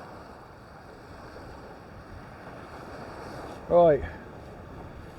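Steady wind blows across a sunny shoreline on Southampton Water at Hamble during sea fishing for bass, a constant broadband rush with lapping water beneath. A single word is spoken briefly near the end.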